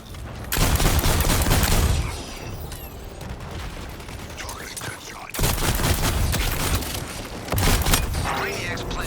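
Heavy, sustained gunfire and booming blasts in Suicide Squad: Kill the Justice League during a Brainiac boss fight, with loud volleys that fade and then return, mixed with speech.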